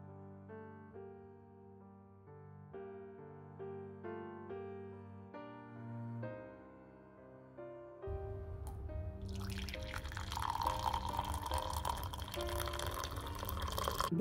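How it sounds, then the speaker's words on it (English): Boiling water poured into a coffee press cup holding powdered coffee, a steady rushing pour that starts partway through and grows louder, following a stretch of soft background music. "Put in some boiling water."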